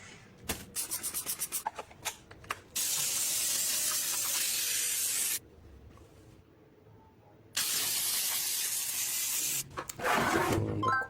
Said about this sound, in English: She's still cleaning her gas stove using